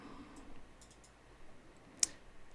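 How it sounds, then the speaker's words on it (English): A computer mouse clicking while selecting a shape in CAM software, faint light clicks through a quiet room and one sharp, distinct click near the end. "So I'm going to just double click on the shape"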